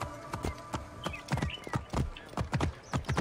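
Horse hooves clip-clop at a steady walking rhythm in the video game Assassin's Creed Origins, each hoof strike crisp and close with faint ambient game sounds around them.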